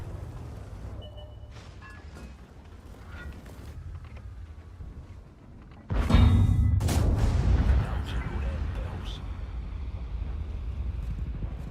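A heavy artillery strike from World of Tanks booms in sharply midway through, then a loud, rumbling battle din lingers over the steady low engine drone.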